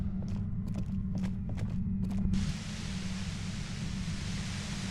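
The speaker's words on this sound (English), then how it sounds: "Aggressive white noise fills your skull." Harsh, aggressive white-noise static from the Disco Elysium video game floods in and holds steady, loud and dense, after a few scattered creaks and clicks over a low droning hum.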